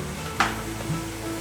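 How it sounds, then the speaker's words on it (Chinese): Shiitake and enoki mushrooms stir-frying in olive oil in a pan, a low steady sizzle with a brief stirring scrape near the start and another soft clatter later, close and alone. "锅内放入适量的橄榄油，放入鲜香菇，还有金针菇，把所有菇类炒香"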